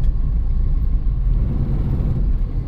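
A vehicle engine idles in a low, steady rumble with a faint whir while the clutch is slowly released. It stays close and even throughout, with no talking.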